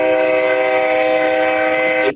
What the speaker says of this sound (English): I love the sound of the American air horns on locomotives.